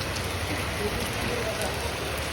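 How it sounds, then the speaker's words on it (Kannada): Heavy rain falling in a steady, dense hiss with no breaks, close and loud, with faint talk beneath it. "ಮಳೆ ಎಷ್ಟು ಬರ್ಲತ್ತದ."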